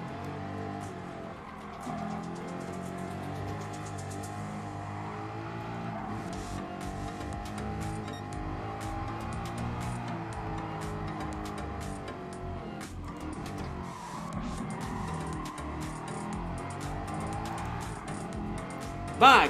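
A race car's engine drones steadily and revs through gear changes in a Gran Turismo Sport racing school event, with tire squeal and skidding layered over the continuous loud motor for the whole stretch.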